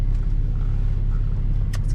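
A 2014 Porsche 911 Carrera 4S with a PDK transmission drives along, giving a steady, close low rumble of engine and road noise inside the cabin, with a faint higher hiss near the end.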